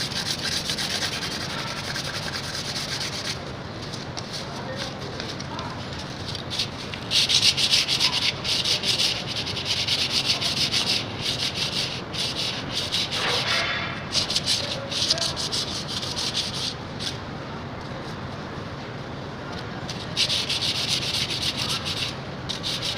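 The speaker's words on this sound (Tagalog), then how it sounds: "gamit lang kayo ng liha na pino" Steady, continuous rasping of fine sandpaper rubbed back and forth on a metal oil cooler tube being repaired for a leak, close up and fairly even in loudness for the whole stretch.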